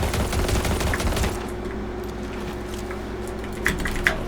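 Rapid automatic gunfire from a gun in a video game, a dense burst of shots for the first second or so, then quieter scattered pops and clicks over a steady background hum.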